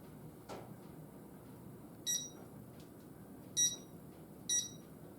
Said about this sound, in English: A little timer.